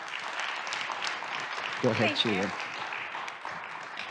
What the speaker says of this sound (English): warm applause to Çiğdem Lüle